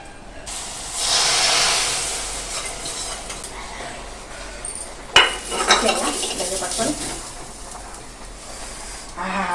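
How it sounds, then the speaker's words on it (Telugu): Tempering poured and stirred into simmering tamarind broth in a pot: a sudden hiss and steam burst early on, then clattering stirs and scrapes against the pot, close by with no talking. "పోపుని చింతపులుసు దాంట్లో కలుపుకుందాం"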